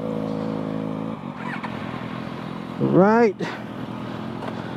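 Suzuki Katana 1000 motorcycle engine at night, a steady low drone that drops off, then a loud rising rev for a moment before falling back to a steady hum, with a voice speaking briefly.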